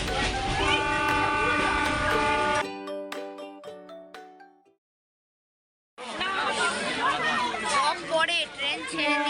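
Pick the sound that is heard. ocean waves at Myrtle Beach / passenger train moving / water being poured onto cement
passenger train moving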